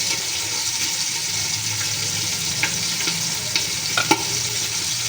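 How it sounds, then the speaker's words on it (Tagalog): Pork frying in a pan for ginataang gulay with sitaw and kangkong, a steady close sizzle with a few light clicks of stirring, and no talking. "Antayin lang po natin na ma-fried yung ating pork"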